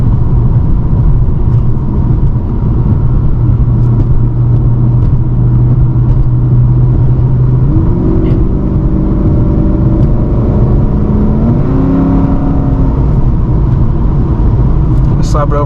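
A Pontiac G8 sedan drives, shifted into sports mode, its engine a loud continuous rumble that climbs in pitch as it accelerates, with road noise filling the cabin.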